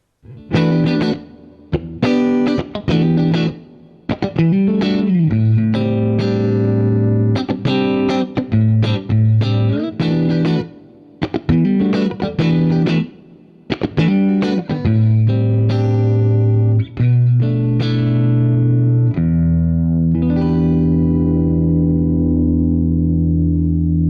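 A clean Aria Pro II 714-GTR Fullerton electric guitar through a clean amp and Boss compressor plays choppy, rhythmic funk chords with tight, even attack, ending on a held, ringing chord that slowly fades.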